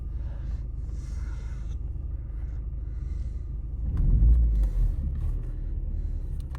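An Opel Astra H engine idling after an ignition coil swap, a low steady rumble heard up close that swells briefly as revs rise, then settles back to a smooth idle.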